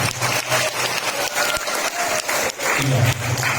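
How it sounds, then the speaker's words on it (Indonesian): Talk show audience applause in a hall, brisk crowd clapping at a fairly close, moderate level with slight swells, lasting a few seconds. "Sekali lagi beri tepuk tangan yang meriah."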